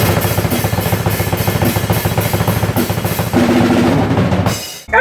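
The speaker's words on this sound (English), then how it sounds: "And then there's metal beats." A drum kit pounds out a fast metal beat with rapid, driving kick and snare hits, loud and steady, cutting off abruptly near the end.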